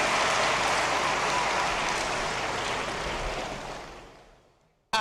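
A large audience at a university convocation ceremony gives a round of applause, a thick, even roar of clapping that holds steady, then tapers off and fades nearly to silence.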